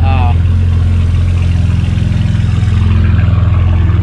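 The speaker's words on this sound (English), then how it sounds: "once it warms up, the idle settles down a bit and it sounds good" A warm BMW 335i idles nearby, producing a loud, steady low rumble with an even throb that holds without revving.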